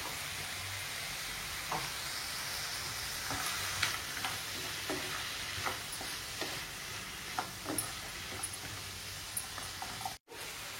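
Spices, including cardamom, dry-roast in a pan with a steady soft hiss, while the pan is stirred and scraped in light, irregular taps throughout, with no voices.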